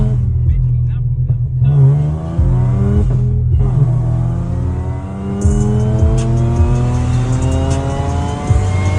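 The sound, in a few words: car accelerating and shifting gears in a played video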